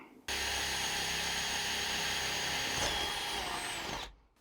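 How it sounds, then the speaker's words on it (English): A single continuous burst of a power drill, high and steady for about four seconds before winding down to silence. "we need to drill a hole right about there"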